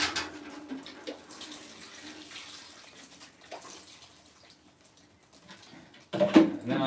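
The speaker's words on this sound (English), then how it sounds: "Get some water on everything." Water splashing and trickling from a hose or can, gentle and uneven, swelling into a louder, steadier pour near the end.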